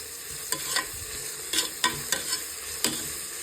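Onions with salt sizzling steadily in a hot pan for biryani, broken by several sharp scrapes and clinks of a spoon stirring, close and continuous with no talking.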